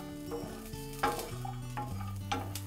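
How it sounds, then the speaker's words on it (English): Spring onion bulbs fry lightly in a pan with a soft, steady sizzle. A few sharp stirring clinks and scrapes break through, and tonal hums run underneath with no talking. "I'm just going to add a couple of spring onion bulbs here and lightly cook it"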